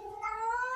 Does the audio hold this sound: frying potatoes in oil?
no